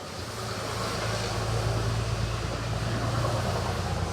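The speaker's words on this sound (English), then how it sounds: "Sorry about the trucks, guys. They're kind of loud on that wet road out there" Trucks pass on a wet road outside, a steady broad hiss and low rumble of tires on water that swells slightly and holds, moderately loud and with no voices.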